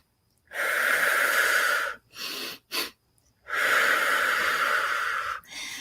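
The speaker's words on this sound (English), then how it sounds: "It's an inhale through your nose, and then a short one, and then a long exhale through your mouth" Deep breathing up close: a long nasal inhale, a shorter breath, a quick sniff, then another long airy breath, each one loud and isolated with silence between.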